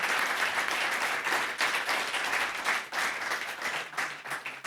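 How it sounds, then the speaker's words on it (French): Sustained audience applause at a lecture on games and children, dense and steady clapping from a crowd filling the whole stretch without speech. "je pense qu'on peut applaudir ces trois dames et Monsieur Berger"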